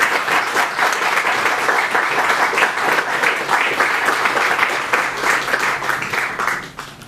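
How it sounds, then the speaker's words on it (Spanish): Steady applause from an audience honoring a former bishop at a centenary celebration of the Passionist Congregation in Peru, dense and sustained with scattered cheers, tapering off at the end. "Me permito que lo aplaudamos, lo saludemos"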